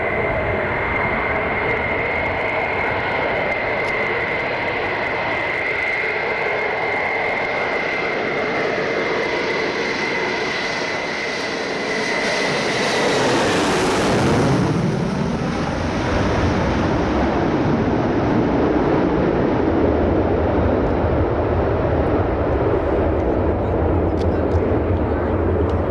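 Loud aircraft at Birmingham Airport, a sustained broadband engine roar that builds and sweeps in pitch as it passes close by around the midpoint, then keeps rumbling steadily afterward with no talk.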